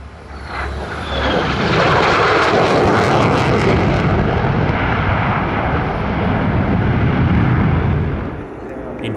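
A 77 Squadron F-35 jet fighter from Williamtown roars past at an airshow, a loud, thundering, rumbling jet blast building quickly and sustained for several seconds before easing at the end.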